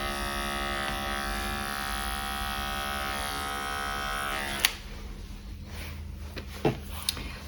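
Electric clippers buzz steadily while shaving a Persian cat's legs during a lion cut, a close, even drone that stops partway through, leaving quiet room sound and a few small knocks.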